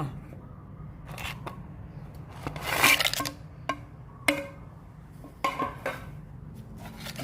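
Crab going into a mortar for spicy Thai blue crab salad, with scattered clinks, scrapes and crunchy knocks of utensils against the mortar over a low background hum.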